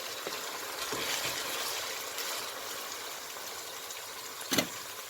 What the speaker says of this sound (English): I just keep it frying.